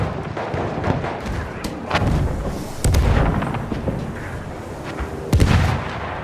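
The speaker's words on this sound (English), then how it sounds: "There's an enemy machine gun!" Battlefield-style war game combat with an enemy machine gun firing amid artillery booms and explosions, loud bursts and thuds recurring over dense background battle noise.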